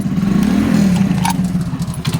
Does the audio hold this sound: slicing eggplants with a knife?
no